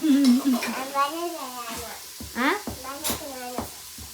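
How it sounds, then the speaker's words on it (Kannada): Chicken sizzles and is stirred in a pan on a home kitchen stove, a low frying hiss with scraping stirs, mostly buried under close talking voices. "ಏನು ಫ್ರೈ ಮಾಡ್ತೀಯ ತೋರ್ಸಪ್ಪ ಹೆಂಗ್ ಮಾಡ್ತೀಯ"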